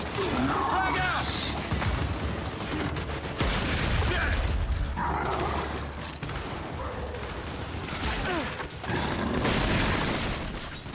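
A frag grenade goes off in the video game Gears 5, with heavy booming blasts and crashing debris amid busy gunfire and mechanical clatter, the loudest bursts landing near the middle and end.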